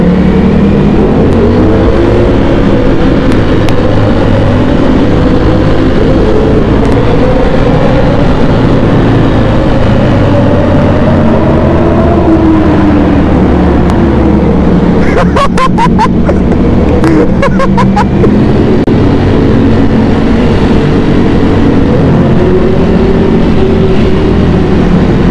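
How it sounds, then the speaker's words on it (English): Ducati Panigale V4S and Aprilia sport motorcycles with a loud CBR650 and KTM 1290 nearby ride in a group, engines droning and rising in pitch continuously, with brief crackling bursts midway, all fairly close. "my Panigale V4S with an aprilia right behind me, which is noisy as hell and sounds amazing"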